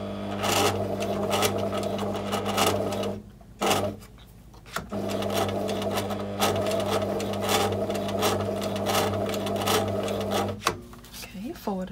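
A vintage sewing machine stitches leather and suede on a tweed jacket at a long stitch length, a loud rapid mechanical chatter that runs continuously with two brief stops, close up.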